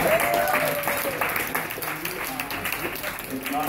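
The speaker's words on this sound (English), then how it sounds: "Let's give a round of applause to the dads." Guests at a 60th wedding anniversary celebration on Father's Day applauding the dads: a dense wash of clapping that is steady, then eases a little, with voices talking over it.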